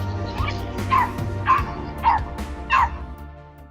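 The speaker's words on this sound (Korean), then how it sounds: "함께 있던 강아지는 사나운 포식자를 상대로 끝까지 맞서며 주인을 지켜주었습니다" A small dog barks and yips while confronting a coyote in a village, giving four sharp, evenly spaced barks over a constant low hum of background noise.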